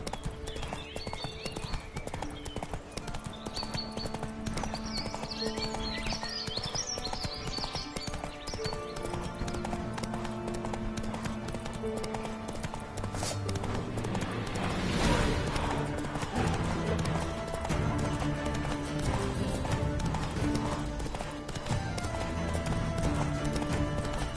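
Roach, the horse in The Witcher 3, gallops in a steady rapid clip-clop that runs the whole way under a game music score, with the hoofbeats swelling louder partway through.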